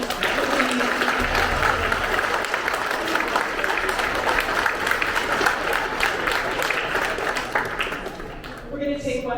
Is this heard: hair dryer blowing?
no